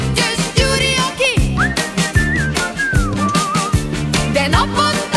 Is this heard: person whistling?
yes